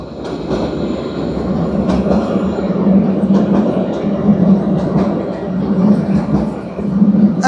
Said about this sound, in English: oh look at the light rail, which I love